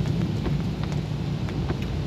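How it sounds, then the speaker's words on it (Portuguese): Light rain falls at night in Maceió, a steady broadband patter with a low rumbling undertone that runs evenly throughout, with no voices. "A chuva tá pouca."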